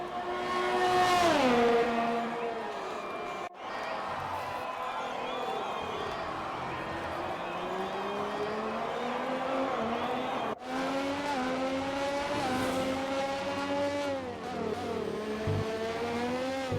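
Racing car engine from a driving video game, revving up and down through gear changes with tire noise, loud and continuous with a couple of abrupt cuts.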